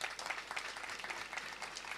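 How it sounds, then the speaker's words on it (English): Applause for 368 athletes at the opening ceremony of an annual sport tournament in Outjo, a fairly faint, even patter of clapping from a crowd heard at a distance. "Round of applause for them."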